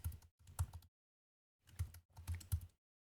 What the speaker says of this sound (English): My typing is horrendous today